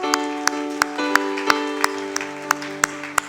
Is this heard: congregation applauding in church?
yes